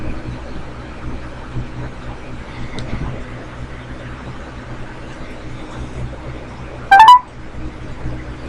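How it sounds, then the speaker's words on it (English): A phone dialing a number, a short burst of tonal beeps near the end, heard over a faint, low background hum with no speech. "I'm going to call the number that they're talking about that started all of this."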